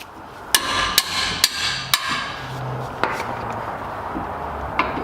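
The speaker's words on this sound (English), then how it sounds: "I'm gonna hold it on and hit it with a hammer" Sharp metallic hammer strikes on a brake caliper bracket, four in quick succession, then a few more spaced-out blows, close and loud.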